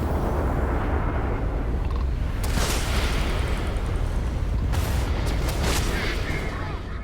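Missile explosions in EVE Online space combat: a steady low rumble with a few heavy broadband blasts, the loudest near the middle, landing over a dense, continuous background.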